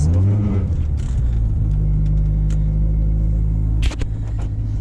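A 1995 Honda Prelude drives while held in third gear, its engine giving a loud, steady droning rumble with a constant tone and a brief dip near the end.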